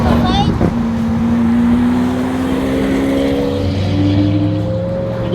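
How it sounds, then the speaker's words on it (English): A Lamborghini Aventador V12 engine and exhaust rumble loudly nearby with a steady, rising high-pitched tone, while people talk over it. "the Aventadors have a certain pitch, depending on exhaust obviously, but I love that high"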